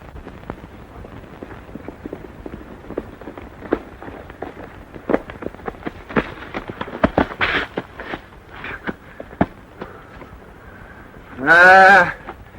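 A 1943 western film's cattle stampede scene carries a scatter of sharp gunshot cracks and clatter, building toward a single loud, drawn-out animal bellow near the end, with no speech.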